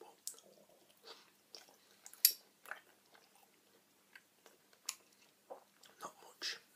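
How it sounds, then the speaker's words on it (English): Faint, close chewing while eating, with soft scattered crunches and mouth clicks spread irregularly through a quiet room. "might hear some chewing sounds and stuff"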